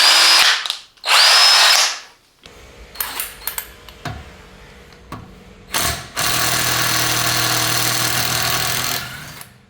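A Hychika 18 V, 350 Nm cordless impact wrench fires two short loud bursts, followed by clicks and handling knocks, then runs in one long continuous whirring burst before winding down, close and loud.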